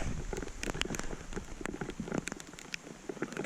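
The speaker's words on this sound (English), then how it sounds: "I'd prefer if this wasn't raining." Rain patters on a cabin roof under construction, a faint, dense spray of drops with scattered sharper taps throughout, with no talking.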